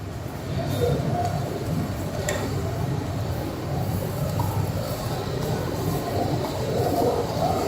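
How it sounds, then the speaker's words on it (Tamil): A Pune Metro train pulls into a crowded district court station with a steady, fairly loud rumble that holds for several seconds, layered with faint platform bustle. "நம்ம ட்ரெயின் வந்துருச்சுங்க."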